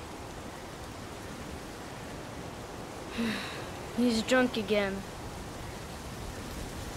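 Heavy downpour in the video game Heavy Rain: a steady, even hiss of rain fills the whole clip while a voice speaks briefly near the middle.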